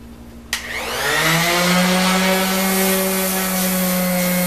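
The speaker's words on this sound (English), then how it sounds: "I'm going to be using the sander." An orbital sander starts up on a vintage hand saw during restoration. After a short quiet lead-in, the motor kicks on abruptly, its whine climbs in pitch and then settles into a loud, steady buzzing hum.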